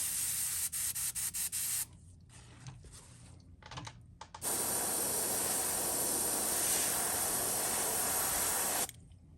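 A paint spray gun with a larger nozzle coats a medium diving fishing lure in purple and pink, first in several quick clicking bursts, then in one long, loud, steady hiss that stops abruptly.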